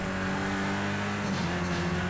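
Race car engine in Project CARS 2 accelerating hard on the Nordschleife after a shift into second gear, a steady loud revving drone throughout with a slight pitch change midway, no talk.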